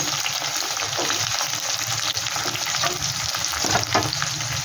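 Jackfruit pieces with green chillies fry in a pan while being stirred, giving a continuous close sizzle and crackle with soft scraping bursts from the spatula and no talking.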